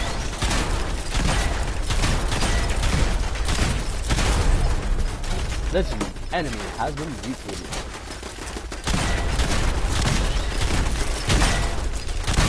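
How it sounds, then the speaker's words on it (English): A Gauss rifle fires repeatedly in a video game amid a dense barrage of gunfire and booms, loud and continuous, with a voice talking over the shooting. "I'm using my capacity Gauss rifle."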